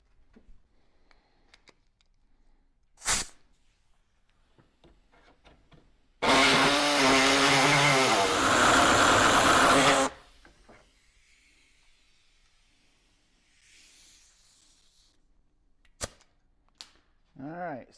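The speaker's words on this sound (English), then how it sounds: "I'm just going to cut out the panel itself" A tool cutting out a rusty sheet metal panel on a Porsche 911 being built into a hot rod, a loud continuous harsh grinding whine lasting about four seconds amid otherwise quiet shop sounds and a few sharp knocks.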